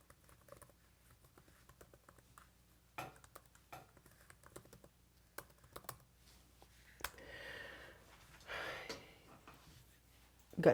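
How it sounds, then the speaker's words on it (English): Someone types on a computer keyboard, sending out scattered bursts of light clicking keystrokes with pauses between them, followed by some soft breathy noises near the end. "But as for now, I'll type it in the chat."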